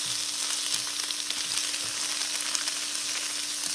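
Tofu frying in a skillet, a steady close sizzle with a broad hiss that runs unbroken, plus a faint constant hum underneath and no talking.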